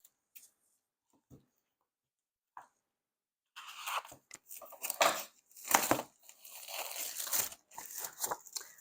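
Scissors cut and tear through packaging during a homeschool curriculum unboxing, coming in as close crinkly crunching and ripping bursts after a few quiet seconds with faint handling.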